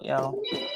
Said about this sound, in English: Sorry for my phone being loud